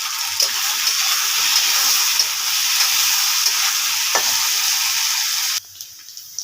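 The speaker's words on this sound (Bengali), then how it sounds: "নুন দিয়ে ভালো করে একটু ভেজে নেবো।" Spices sizzle and fry in hot oil with salt, a steady crackling hiss with faint stirring scrapes in a Bengali kitchen. It carries on evenly, then drops away sharply near the end.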